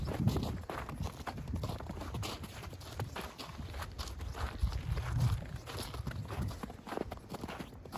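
Horse hooves clip-clop at a steady walking pace in Ust-Ukhta, Komi Republic, faint and somewhat distant over low outdoor background noise.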